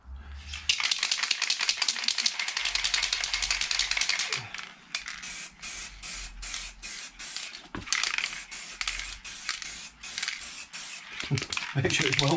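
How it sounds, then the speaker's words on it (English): A shaken spray paint can hisses out in repeated bursts of varying length, close and loud, with short pauses between sprays; painting motorcycle wheels in a ventilated space. "just give it a good shake and spray it somewhere else"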